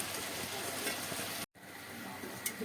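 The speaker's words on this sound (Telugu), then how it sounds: "ఇప్పుడు ఫ్రై చేసుకున్న మంచూరియా ఇందులో వేసేసారు" Fried gobi manchurian is tipped into sauce in a pan and sizzles steadily, a loud, continuous hiss with faint stirring clinks and a brief break partway through.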